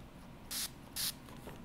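Two short hissing bursts of enamel clarifier sprayed from a spray bottle off to the side while sifting enamel onto a curved shape, close and distinct over a quiet room.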